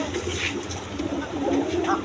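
A Koka pigeon brooding on its eggs gives soft, low cooing, steady and close against faint background noise.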